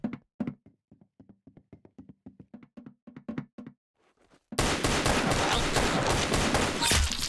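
Rapid clicky gunshots ring out in bursts in the Roblox game Arsenal, crisp and close, then give way to a dense, loud wash of game noise.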